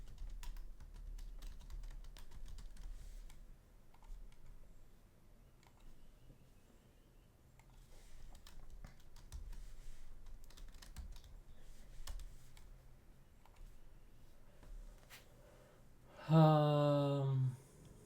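Soft, scattered keystrokes tap on a computer keyboard in bursts, quiet and close, ending with a short musical chime.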